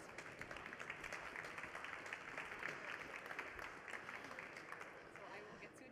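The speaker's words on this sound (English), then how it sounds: "let's just welcome them by a big round of applause" Applause from a conference audience at a food plenary, as two people are called on stage: steady, dense clapping fills the room at moderate level, with some speech-like murmur mixed in.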